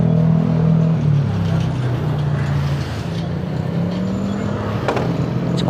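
A Yamaha MT-09 SP motorcycle's CP3 three-cylinder engine runs steadily with a loud, close drone and shifting pitch as it revs, heard while riding with wind noise.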